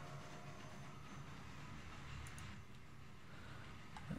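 A train rolls steadily through the Transport Fever video game, giving a continuous low rumble with faint clicking on top and no voices.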